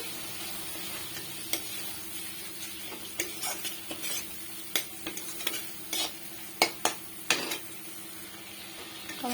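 Tomato is stirred into a sizzling masala for Tangra fish, with a quiet fry underneath and a series of sharp, irregular clinks and scrapes of a utensil against the pan, up close.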